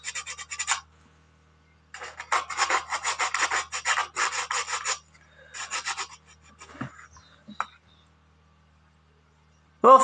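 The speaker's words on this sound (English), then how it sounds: "Sandpaper, folks, it pays dividends." Sandpaper rubs against a plastic scale model of a MiG-19 in close, raspy bursts, several strokes grouped together with short pauses between them, and a brief knock near the end.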